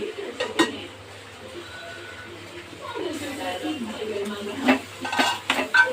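Kolhapuri white rassa simmers in a pot, a soft bubbling cook with a spoon scraping and clinking against the metal and a low hum beneath, and a voice talks partway through.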